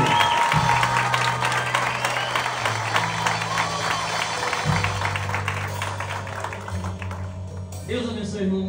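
A church congregation claps together, a brisk, dense patter of many hands under a sustained low organ or keyboard tone, with a voice speaking over the end.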